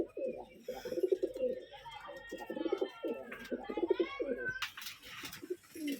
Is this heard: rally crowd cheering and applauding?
no